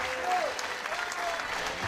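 A crowd applauds at a pool match, steady clapping across the short stretch with a commentator's voice faintly over it.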